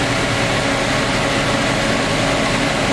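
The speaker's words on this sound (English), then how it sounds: "And the fan is on now." Furnace fan running inside a Roadtrek camper van, a loud, steady broadband whoosh of blowing air with a low rumble underneath, constant and unbroken throughout with no voices.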